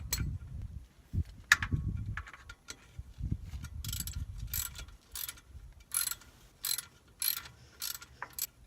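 Someone threads the oil drain plug back into a Kawasaki Mule and tightens it with a ratchet, making quick, close clicking bursts in a steady rhythm after some low handling thumps and scrapes.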